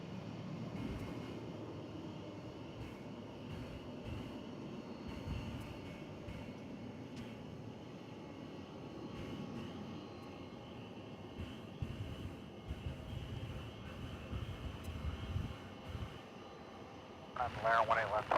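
An American Airlines jet takes off at night from DFW Airport. Its low engine roar rumbles steadily in the distance and swells near the end, with people talking over it.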